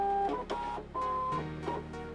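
A cutting machine loading a cutting mat after being powered on, giving a faint mechanical whirring with short stepping motor tones that shift pitch over a couple of seconds, heard alone with no talk.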